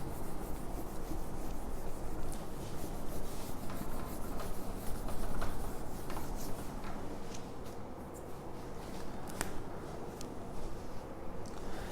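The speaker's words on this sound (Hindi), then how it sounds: "मैं इसको यहां से रब कर रहा हूं" Writing is being rubbed off a board during a Class 9 polynomials lesson, a continuous dry scrubbing and rasping that stays loud and close for the whole stretch with no talking.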